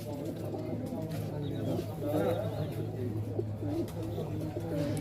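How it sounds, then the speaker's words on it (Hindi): Black Babra Punjabi pigeon, a pedigree breed, cooing in low, steady, repeated murmurs close by, with someone talking over it throughout. "ये काला बबरा पंजाबी कबूतर है"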